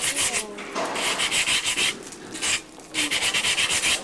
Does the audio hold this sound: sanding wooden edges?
yes